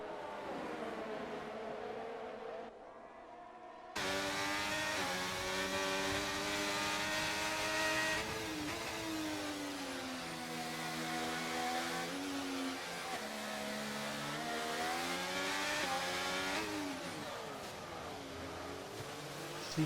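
An AI Mercedes race car engine in an F1 video game during rain at Monaco, a loud sustained whine that rises and falls in pitch as it accelerates and slows, close by and continuous.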